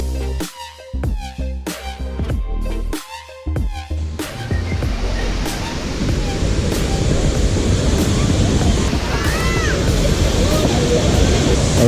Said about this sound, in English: It's about a 25 meter waterfall.